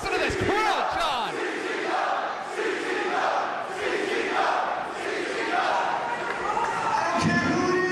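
A wrestling crowd chants in rhythmic waves and cheers loudly, the repeated chant rising and falling over several seconds with a burst of whistles near the start.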